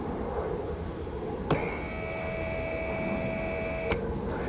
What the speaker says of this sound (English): when we close the trunk, soft close happens. The pump shuts down, and then